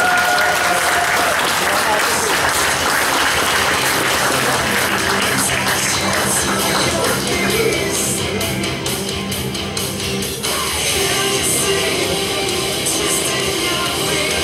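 Audience applause for a category winner at a Lithuanian bodybuilding cup awards ceremony, a loud sustained wash of clapping with an announcer's voice over it.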